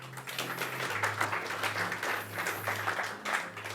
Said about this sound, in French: On l'applaudit, oui?